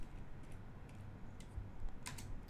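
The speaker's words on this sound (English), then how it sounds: "So type in net sh" Quiet, scattered key clicks on a computer keyboard as a command is typed, soft and close with short pauses between strokes.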